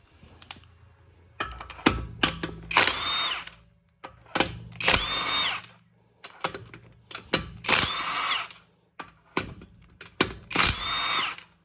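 A power tool removes the wheel from a 2007 Mercedes SL550, sounding as four loud, separate bursts of rattling whirring spaced a few seconds apart with short pauses between them.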